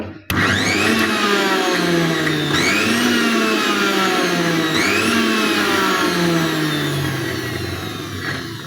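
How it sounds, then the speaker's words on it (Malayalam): A mixer grinder blends beetroot with a loud, steady motor whine that dips and climbs in pitch several times as the blades work through the load. It runs alone and close, with no voices. "നമ്മൾ മിക്സിയിൽ അടിച്ചെടുത്ത് കൊണ്ടുവന്നിട്ടുണ്ട്"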